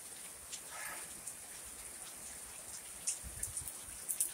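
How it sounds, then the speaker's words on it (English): Steady rain falls outdoors on a rainy day, a soft even patter heard from a distance with a few closer drips, faint and continuous. "Something about a rainy day."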